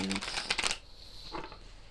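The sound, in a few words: shuffling tarot cards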